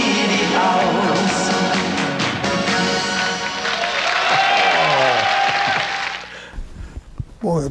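A live audience at a polka show applauds loudly after a song, the clapping sustained with some crowd voices before it fades out.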